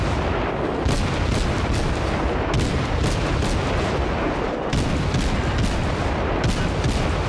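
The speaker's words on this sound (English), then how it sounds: "Time to fire at the Langley." Warship guns fire in the naval video game World of Warships, aboard the cruiser Kolberg: loud booming salvos repeat every second or two over continuous battle noise.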